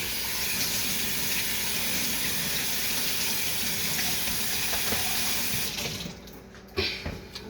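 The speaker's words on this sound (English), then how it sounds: "rinse my hands, give me a second." Water runs steadily from a kitchen tap while hands are rinsed during fish fried rice preparation, a continuous close hiss that cuts off near the end, followed by a couple of faint clatters.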